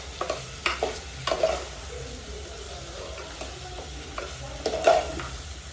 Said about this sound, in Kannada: ಹಿಂಗೆ ಮಿಕ್ಸ್ ಮಾಡ್ಕೋಬೇಕು ಗೈಸ್